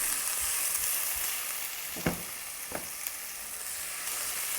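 Onion and tomato sautéing in oil for a shrimp curry hiss steadily in the pan, broken by two or three distinct scrapes of a spatula around the middle.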